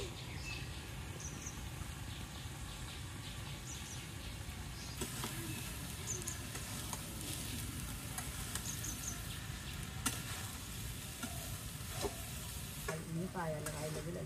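Vegetables and green chilies cook in a pan with a steady moderate sizzle and stirring for about fourteen seconds, while faint bird and insect calls sound in the background.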